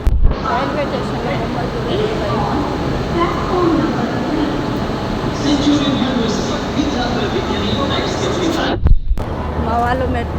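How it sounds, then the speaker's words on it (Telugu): Busy railway station platform in Visakhapatnam, with a steady wash of crowd chatter, rumbling train and station machinery, and a brief near-silent break near the end before the bustle resumes. "రైల్వే స్టేషన్లో"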